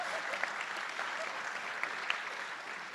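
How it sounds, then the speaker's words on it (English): Steady applause from an audience at a school board meeting, a dense even patter of many hands clapping that holds for the whole stretch, with a few sharper claps standing out. "Give them a round of applause."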